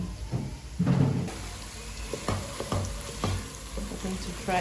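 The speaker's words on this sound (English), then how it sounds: "We're frying the onions" Onions sizzle and crackle in hot oil, with a few scraping stirs and clinks of a utensil against the pan.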